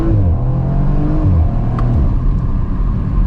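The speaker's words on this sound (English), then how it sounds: "I put my foot down, took my foot off, and I'm doing just over 60." A 2020 Audi RS4 Avant accelerates hard from inside the cabin, its engine rising in pitch through a loud run before a gear change and a drop as the throttle lifts, with a faint whine over the top.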